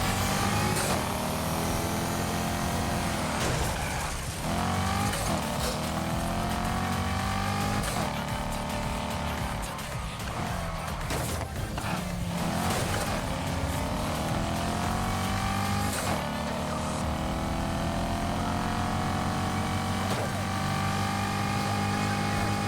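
Racing car engine in Need for Speed Heat, driven at high speed with a wheel setup, roars continuously with rising and falling revs and gear shifts, loud and steady throughout with faint voice underneath.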